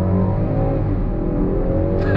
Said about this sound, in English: we're gonna come to a complete stop again and go on throttle